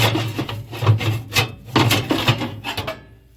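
The screen of a hammer mill feed grinder slides out with a rough metal-on-metal scraping and rasping, several uneven strokes close by before it falls quiet.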